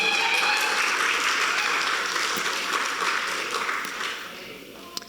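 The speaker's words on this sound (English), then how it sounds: "Let's give her another round of applause." Audience at a fundraiser giving a performer another round of applause, a broad wash of clapping and cheering that holds steady and then fades out toward the end.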